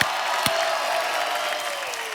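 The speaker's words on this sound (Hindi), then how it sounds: "एक बार जोरदार तालियां बनती है यार," Applause from a studio audience on a Hindi TV comedy show, a steady wash of clapping with a couple of sharper bursts, loud and sustained throughout with no talk over it.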